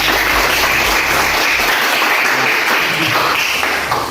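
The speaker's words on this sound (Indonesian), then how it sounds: "Berikan tepuk tangan." A classroom group claps together in sustained, dense applause, an even crackle of many hands lasting several seconds and fading slightly at the end, with no talking over it.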